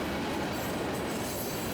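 Freight train M332, a long string of boxcars including 86-footers, rolls steadily past at close range, its wheels giving a continuous rumbling roar with a faint metallic squeal riding over it.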